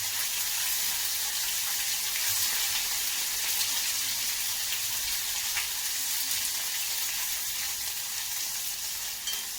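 Ginger garlic paste frying in oil for capsicum rice, a steady dense sizzle filling the whole stretch at an even loudness, close by with no voices.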